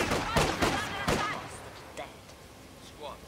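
Soldiers open fire in the Company of Heroes 2 Soviet campaign, a few sharp broadband gunshot bursts in the first second, then scattered fainter shots with distant voices shouting.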